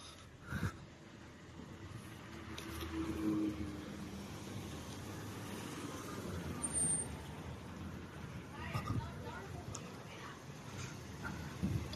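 Steady road traffic of cars and trucks passing along a street lined with restaurants in a small Chinese city, forming a continuous rumbling wash with occasional louder passes and a brief air-brake hiss.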